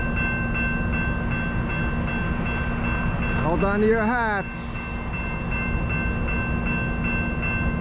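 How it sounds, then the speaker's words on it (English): An auto rack freight train rolls past a trackside spot in New Jersey with a steady, loud rumble. Its horn sounds briefly in the middle, and someone talks over the noise. "I think it's the auto rack train."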